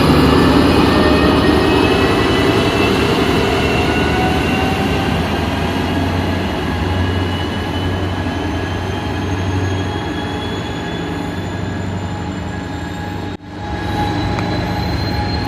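A Pacific Surfliner passenger train rolls past close by, loud and sustained, with rumbling wheels, metallic squeals and a brief drop near the end.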